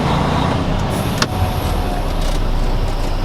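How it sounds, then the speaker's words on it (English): A truck in gear rolling slowly forward during a Class A trolley brake test, a steady near engine rumble and road noise with one sharp click partway through. "We're going to roll forward, test the trolley brake."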